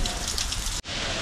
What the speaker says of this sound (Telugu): వీడు నన్ను మొత్తం వర్షంలో తడిపేశాడు గట్టిగా